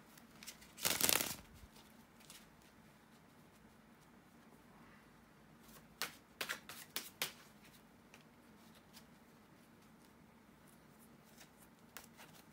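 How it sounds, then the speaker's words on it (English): A quick burst of tarot card shuffling, then a few soft riffles and taps against a quiet room, with no one speaking. "bear with me a second to shuffle the tarot cards"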